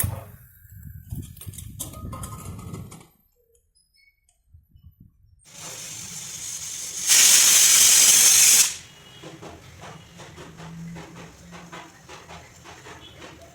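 Pressure cooker boiling lentils with green chillies hisses intermittently, then lets out a loud, sharp burst of escaping steam lasting under two seconds, followed by softer rattling and hissing close by.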